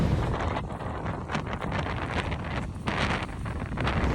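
Strong wind roars across an open, exposed landscape near a glacier lake in Torres del Paine, buffeting the microphone with a constant loud rumble and gusty surges, and no voices.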